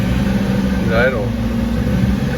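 Volvo Penta 4.3 marine engine with a failed sound-shield foam, idling with a steady close rumble and a brief higher whine rising and falling midway.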